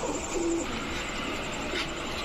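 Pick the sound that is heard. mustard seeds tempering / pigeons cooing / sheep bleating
pigeons cooing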